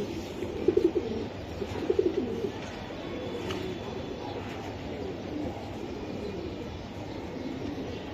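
A BRPF 2023 auction racing pigeon coos twice near the start in low throaty bursts, then falls quiet against a steady background hum for the rest of the clip.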